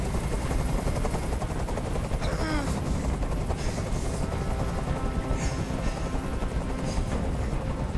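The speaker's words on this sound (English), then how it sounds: "Tell that helicopter to get out of here!" Helicopter hovering overhead in the Detroit: Become Human hostage scene, a loud, continuous rotor drone with dense low rumble filling the whole stretch, joined by faint rising whines and scattered distant clatter.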